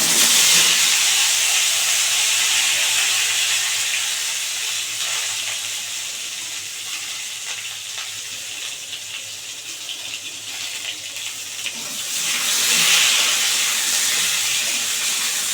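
Chopped fresh olives hitting hot oil tempered with panch phoron for olive pickle, a loud rushing hiss that eases into a quieter steady sizzle, then swells again near the end, close up with no talking.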